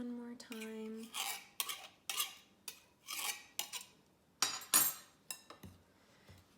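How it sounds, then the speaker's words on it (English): A knife repeatedly cuts cold butter into flour for homemade biscuit dough, producing close scraping strokes and light clinks against a bowl in an irregular rhythm, with a brief faint vocal sound near the start. "I'm gonna run my knife again one more time."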